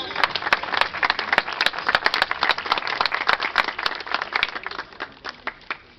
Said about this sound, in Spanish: ¡Palmas a mano!